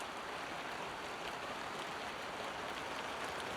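Light rain falls steadily and softly, a continuous faint hiss of drops with no voices.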